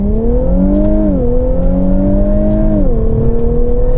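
A 2018 Infiniti Q50 Red Sport 400 accelerates hard, its engine note climbing steadily and dropping twice at quick gear shifts, loud and close with a continuous rumble beneath.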